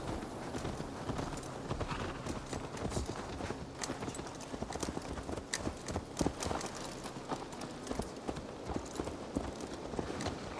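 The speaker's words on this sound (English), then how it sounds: "Let's return the horse." Horse hooves clip-clop steadily in Assassin's Creed Valhalla, a quick rhythmic run of close, crisp hoof strikes lasting throughout over faint game ambience, with no clear speech.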